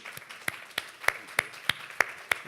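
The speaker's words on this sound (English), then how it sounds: "Let's give him a round of applause." A small panel audience at a Festival of Media session claps for the moderator, the head of Twitter for Miami. Sparse, distinct hand claps land in a loose, steady rhythm, about eight in a couple of seconds, near and fairly crisp.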